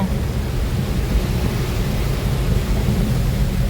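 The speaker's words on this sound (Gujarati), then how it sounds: "રસ્તામાં જોરદાર વરસાદ ચાલુ થયો છે" Heavy rain roars steadily with no breaks on a road, a dense low rumble filling the whole clip.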